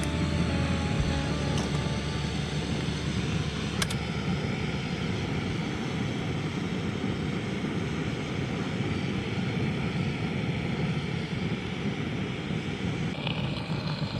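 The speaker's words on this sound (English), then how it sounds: "I need to actually light my jet boiler." A Jetboil camping stove burner roars steadily at full flame during a wild camp beside the River North Esk in Scotland, loud and close, with a couple of faint clicks near the start.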